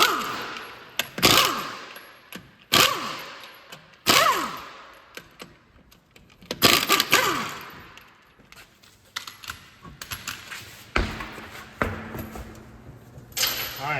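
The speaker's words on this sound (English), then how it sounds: "But anyhow, let's get this wheel off." Wheel nuts coming off the rear wheel of a 2007-2011 Toyota Camry: sharp metallic clanks and thuds at irregular intervals, close and fairly loud, with quieter handling noises between.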